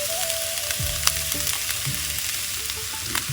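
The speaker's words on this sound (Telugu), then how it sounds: "ఉప్పు వేసి వేపాలి." Onion frying in a little oil with salt, tamarind and jaggery for an Andhra-style stuffed brinjal curry: a steady close sizzle with occasional stirring scrapes and brief crackles, no talking.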